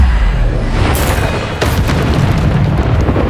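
A Bombarda spell blast in Hogwarts Legacy, a loud, sustained booming roar with a sharp burst near the middle, heavy and close with no voice over it.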